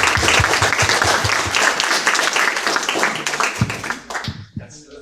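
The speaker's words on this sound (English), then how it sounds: "So we're going to give them a round of applause." Hackathon audience applauds the winners at an awards announcement, with a dense round of clapping from a crowd that tapers off over a few seconds, loud and close with some voices mixed in.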